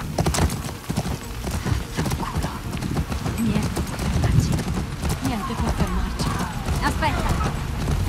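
Horse hooves clop steadily in The Last of Us Part 2, with a neigh among the rhythmic steps, under near-constant Italian talk.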